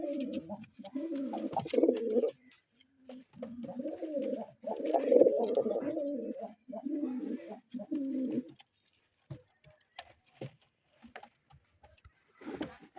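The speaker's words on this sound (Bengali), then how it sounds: "খুব একটা ভালো লাগার কবুতর, আমার পছন্দের।" Pigeons of a red-and-biscuit pair coo up close in a loft, with repeated low throaty phrases in two longer runs followed by scattered soft coos, rustles and taps.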